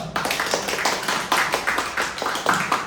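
Audience applause at the close of an academic symposium, a steady wash of many hands clapping with regular swells, fairly close and filling the room, with no talk over it.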